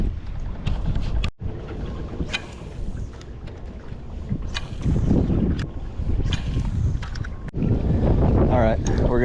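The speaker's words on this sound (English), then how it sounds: "It's way too windy." Strong, gusty Hurricane Helene wind buffets an open jon boat on the water, roaring and rumbling loudly in uneven surges with occasional knocks.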